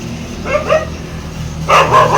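A dog barks twice close by, short sharp yaps separated by a pause, with a low hum underneath.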